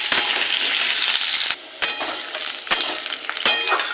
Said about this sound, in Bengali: আলুটাকে ভালো করে ভেজে নেব।